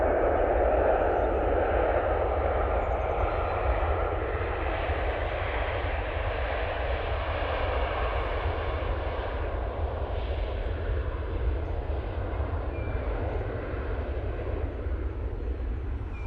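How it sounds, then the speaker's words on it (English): A Ryanair Boeing 737-800 arriving at Manchester Airport from Alicante in low visibility, its jet engines giving a steady, fairly loud broadband roar throughout with no voices. "737-800. Coming in from Alicante."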